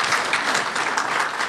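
Steady, sustained audience applause fills a hall after a Billy Collins poetry reading, a dense even wash of clapping with no voices over it.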